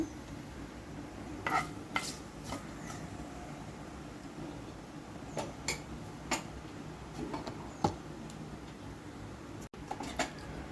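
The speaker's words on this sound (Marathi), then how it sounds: "जिरा तडतडू द्या तुमचं" Cumin seeds and curry leaves crackle softly in hot ghee and oil in a kadhai, with scattered small pops and ticks over a low sizzle, interrupted now and then by a light clink of a utensil.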